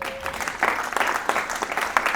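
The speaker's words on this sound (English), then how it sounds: "You can clap it up for that if you want to." Scattered applause from a modest audience at a Disability Pride Month talk, uneven claps that swell in a few bursts across the short stretch.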